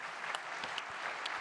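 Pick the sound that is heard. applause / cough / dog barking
applause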